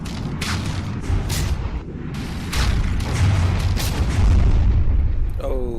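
A warship's ammunition magazine detonates in the naval combat game From the Depths, heard as loud, deep rumbling booms amid a heavy barrage of artillery fire.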